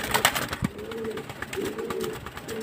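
Pigeons in a loft, including a newly bought male, give soft, low, rolling coos close by in a short burst, with light fluttering and rustling.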